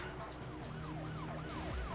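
Wailing police siren from a car video game, repeated rising-and-falling sweeps over steady engine hum, loud and continuous throughout with no talk.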